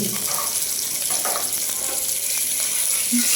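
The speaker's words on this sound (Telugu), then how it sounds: "బాగా హీట్ ఎక్కినాక ఆయిల్ బాగా వేపుకోవాలండి" Steady sizzling of food frying in hot oil for chicken biryani, loud and close, with faint stirring scrapes and no talking.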